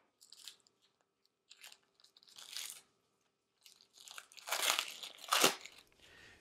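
Dry Umai aging membrane crackles and crinkles as it is peeled away from a New York strip loin, in several close bursts that grow louder and denser toward the end.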